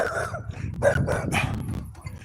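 A dog barks several times in quick succession on a town street, close and fairly loud, the barks running together against low outdoor background noise.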